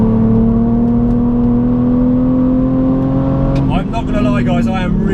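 A BMW Z4 engine pushed hard on a race track drones loud and steady at high revs, its pitch holding nearly level, then shifts near the end as the car changes gear or lifts off. Speech runs underneath.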